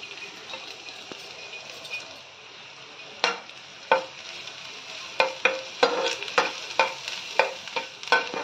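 Finely chopped garlic sautéing in oil reused from frying chicken lollipops in a pan on the gas, with a steady background sizzle followed by a run of sharp, regular spatula scrapes and taps against the pan, close, without talk.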